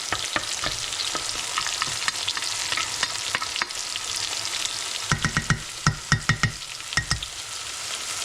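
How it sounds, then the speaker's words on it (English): Onions frying in a pan until brown, with a steady close sizzle throughout and a run of sharp stirring scrapes and clacks toward the end. "it starts with the onions until they brown up."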